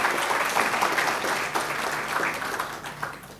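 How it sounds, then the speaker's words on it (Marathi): An audience at the Maharashtra Business Conclave 2024 applauds its sponsors, steady dense clapping filling the hall for a few seconds before easing off slightly. "एकदा जोरदार टाळ्या आपल्या सर्व प्रायोजकांसाठी वाजवूया."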